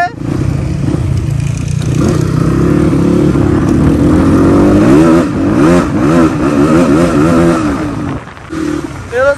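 A motorcycle engine idles and then revs repeatedly in loud, rising and falling surges, close to the listener and dominating the scene before briefly easing off near the end.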